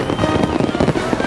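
Fireworks on July 4th burst in a dense, continuous barrage of booms and crackles, loud and close, with no speech over them.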